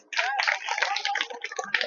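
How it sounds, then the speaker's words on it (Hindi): Audience clapping at a women's gathering in a hall, a dense burst of many hands applauding together, steady and fairly loud for the whole stretch. "ताली बजा लीजिए खुद के लिए"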